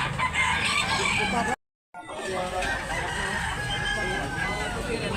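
A rooster crows at an outdoor market in Tabunok, Talisay, Cebu, over a noisy, bustling background with murmuring voices, briefly cut by a gap of silence.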